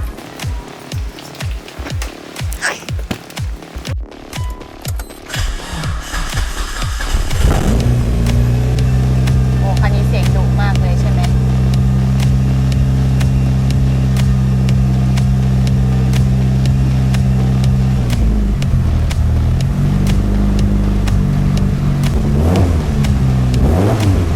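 A Mitsubishi Lancer Evolution VIII engine cranks and fires up, then settles into a loud rumbling idle with a few throttle blips and revs.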